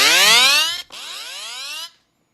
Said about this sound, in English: Let me give you a quick preview of what my alarm sounds like.